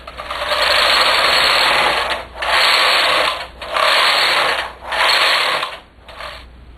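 A domestic knitting machine with ribber attached knits English rib, the carriage rushing loudly back and forth in four long clattering passes with brief pauses, then a shorter fifth pass.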